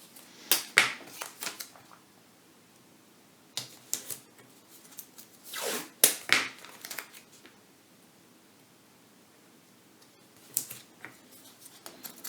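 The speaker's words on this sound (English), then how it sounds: "Gonna use some of the tape, if there is enough on this roll." Adhesive tape peeled off a roll in several separate bursts, sharp crackling rips spaced out with quiet handling pauses between, close and fairly soft.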